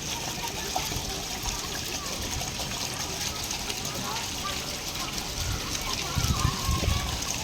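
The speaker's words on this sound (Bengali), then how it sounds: "দেখো কিরম জল আসছে" Floodwater flowing along a flooded road, a steady close rush and trickle of water with occasional splashes, while a person talks over it.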